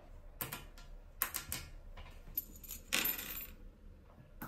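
Metal washers and a nut put onto toilet bolts while installing a Kohler Highline toilet: a handful of sharp, close metallic clinks and clatters, separated by short quiet gaps.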